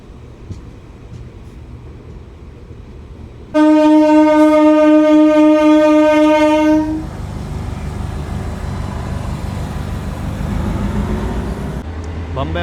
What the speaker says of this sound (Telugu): ఈ డెమో ట్రైన్ అయితే వెళ్ళిపోతుంది, సోనిపత్ వెళ్ళే డెమో ట్రైన్ అది.